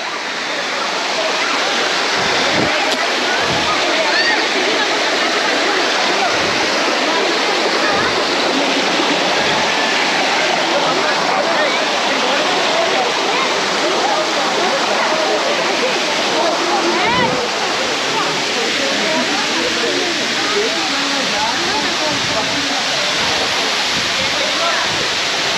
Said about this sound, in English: you see behind me is Katika waterfalls